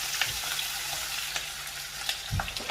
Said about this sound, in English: So that sizzle tells you it's hot enough.